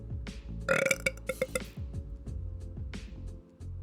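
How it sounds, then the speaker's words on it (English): A single loud, close burp rumbles through the middle of the clip, with a few faint clinks and low background noise around it and no speech. "I love a good burp."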